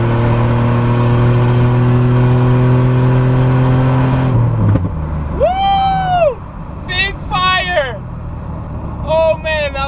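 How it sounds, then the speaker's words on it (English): Loud engine of a modified minivan drones then cuts off with a sharp crack of a backfire, followed by excited voices talking over the lower rumble. "A huge backfire right there."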